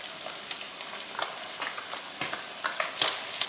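Onion and pepper go into a pan of browned pork, giving steady close frying sizzle broken by repeated scraping stirs at an uneven rhythm, with no voices.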